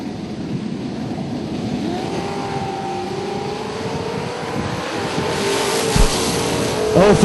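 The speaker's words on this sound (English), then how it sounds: "they're a nickel apart with Al getting a chance to lead first with the Camaro" Drag race cars launching at a Super Pro bracket race, one a Camaro and another a Vega, with a loud rising engine roar and shifting pitch sweeping past, building toward the end.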